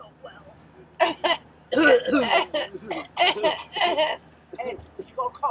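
A few rough coughs and throat-clearing bursts come in quick succession, mixed with voices and some laughter.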